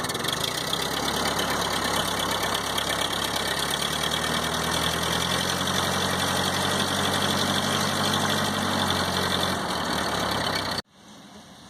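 A 1952 Ford 8N farm tractor engine idles continuously at close range with a low, even rumble, then cuts off abruptly near the end.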